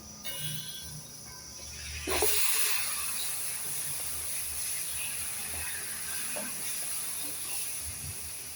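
Marinated mutton hits hot masala in a pan with a sudden sizzle, then a steady hiss of frying continues under faint background noise.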